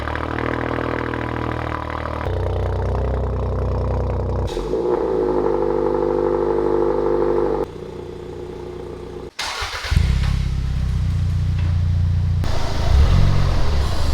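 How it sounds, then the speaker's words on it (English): Car engines in a garage crank over and catch in a series of cold starts, each settling into a loud, steady idle with clatter before cutting off and the next one firing up and revving. "we have to hear the cold start first"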